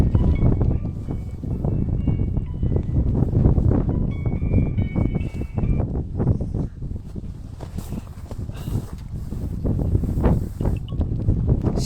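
Strong wind roars across snowy mountain slopes near Long County, Shaanxi, buffeting the microphone in a continuous low rumble with gusty surges and rustling, loud and unbroken with no voices.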